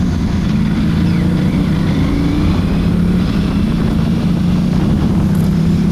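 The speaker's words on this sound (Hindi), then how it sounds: "यहाँ से मैं फुल थ्रॉटल ही चला रहा हूँ" An Aprilia RS457 sport motorcycle ridden at full throttle, its steady loud engine drone continuous and close, with heavy wind rush throughout.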